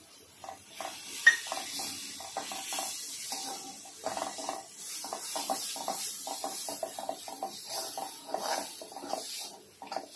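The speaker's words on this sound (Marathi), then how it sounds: "आता ह्याच्यात 2 चमचे मी शेंगदाण्याचं कूट घेतलंय, ते टाकून घेते।" Ground peanut powder goes into roasted spices in a pan, heard as light irregular scraping and clinking of a spoon against the pan over a faint sizzle, close and soft with no voice.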